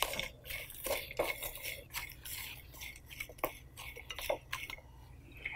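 Moringa leaves and flowers are hand-mixed in a bowl with salt and curry leaves for bhaji batter, giving irregular soft clinks, wet squelches and stirring scrapes at close range.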